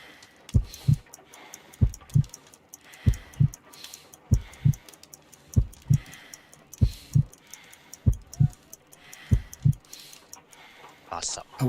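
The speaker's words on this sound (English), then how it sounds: "I need to concentrate and count the heartbeats." A slow, steady heartbeat thumps in a Sherlock Holmes: Crimes and Punishments game scene, a dozen or so paired lub-dub beats at an even, weak pace, close and muffled, with a faint voice over the top.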